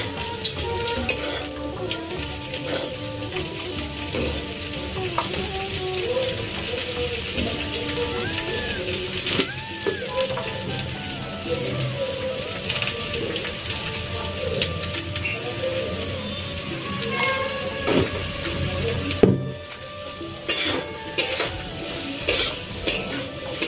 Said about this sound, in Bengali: কাঁঠালটাকে আমি ভালো করে ভেজে নিলাম